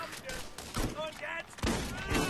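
Gunfire bursts from a shotgun in the video game Borderlands, several loud blasts over about two seconds mixed with game effects and a voice talking over them.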